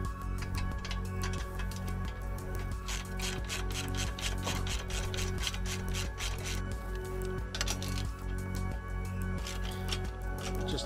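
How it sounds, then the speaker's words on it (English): An 8mm socket and a 10mm wrench ratchet steadily to remove the custom Rally Raid oil filter guard on a Honda CB500X motorcycle. The rhythmic clicking strokes are close and repeat evenly throughout, with no speech. "With an 8mm socket and a 10mm wrench, we'll pull the guard covering the oil filter."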